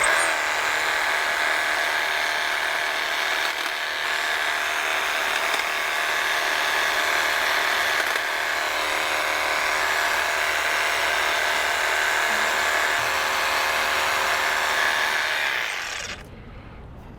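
An ECHO 34-inch single-sided hedge trimmer buzzes steadily and loudly while beveling across the top of a hedge, its dense motor whine holding constant for about sixteen seconds before cutting off abruptly.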